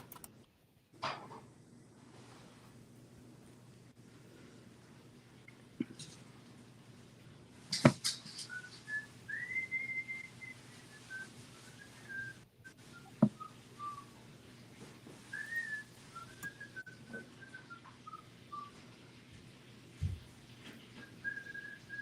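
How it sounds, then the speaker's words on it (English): Someone whistles a wandering, melodic tune at a moderate distance, with a few sharp knocks and thumps scattered through a steady room hum. "What y'all whistling over there?"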